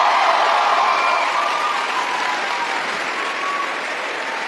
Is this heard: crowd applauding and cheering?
yes